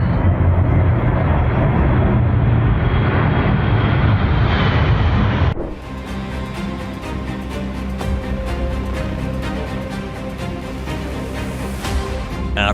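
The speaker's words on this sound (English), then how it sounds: "the C-17 Globemaster III shows off its other qualities as the pilot flies dangerously low between buildings and skyscrapers in Brisbane" A C-17 Globemaster III military transport plane flies dangerously low between the buildings and skyscrapers of Brisbane, a loud, steady engine roar that drops off suddenly partway through and continues as a broader, rumbling jet noise with no talking.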